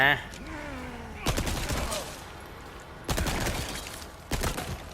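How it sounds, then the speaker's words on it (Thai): Guns fire in the video game Resident Evil 4, playing a Chainsaw Demo on hard mode, with three loud bursts of rapid shots separated by short gaps, joined at the start by a brief voiced tone. "มีมีเท่าไหร่ยิงให้หมด"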